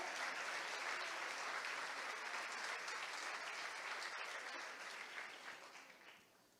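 A church congregation claps together in praise after a sermon, a broad sustained wave of applause that gradually fades toward the end.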